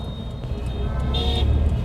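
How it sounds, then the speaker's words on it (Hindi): Mixed city road traffic of cars, motorbikes and three-wheel auto-rickshaws, heard from inside a car as a steady low rumble of engines with a brief horn-like tone near the middle. "लेकिन देख सकते हो आप ट्रैफिक मिक्स्ड है, बाइक है, 4 व्हीलर है, 3 व्हीलर है, सब है"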